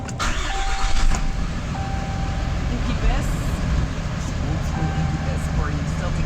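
A 2018 Ram 2500 pickup's engine cranks and catches, then settles into a steady rumbling idle close by, with a faint whine over it and a voice speaking at times.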